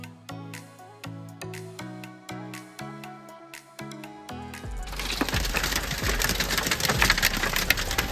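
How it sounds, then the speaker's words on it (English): Freezing rain falls as ice on roads in central Iowa in winter, a dense crackling, splintering patter that starts abruptly partway through and continues loudly, preceded by a run of regular tonal notes. "The raindrops have turned into ice, covering the roads of central Iowa in a breathtaking winter scene."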